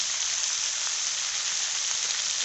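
Potato and drumstick pieces fry in a poppy seed paste with salt and a little sugar, giving a steady, close hiss of sizzling that holds even throughout without talk.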